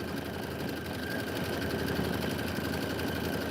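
An embroidery machine stitches a design at a fast, even mechanical rhythm, a continuous close whirring hum with a rapid needle chatter and a faint steady whine, no voices.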